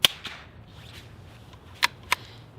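A rifle fired through a Dead Air Mask silencer gives sharp, short supersonic cracks: one at the start, then two close together near the end, with a quiet outdoor lull between them.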